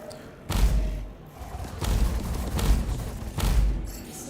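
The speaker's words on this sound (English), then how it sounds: "I'm being shot at." Space combat video game gunfire and explosions, several heavy booming thuds spaced about a second apart with a dense rumble between them and no talk.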